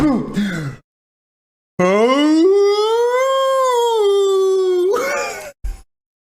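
A person imitates a wolf howl with a long, rising then falling voiced wail lasting about four seconds, loud and close, framed by brief vocal noises before and after.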